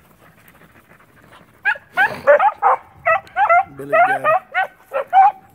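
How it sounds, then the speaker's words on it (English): Beagle hounds on a hunt bay and yelp in quick, eager bursts, nearby and loud, with whines between calls and someone speaking briefly over them. "My pups want to go bay."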